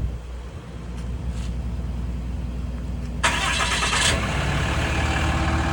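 A 2015 Ram 5500 4x4 with a Cummins diesel, started by remote: a steady low idle rumble, then a sudden louder burst of cranking and catching about three seconds in, settling into a fuller running drone.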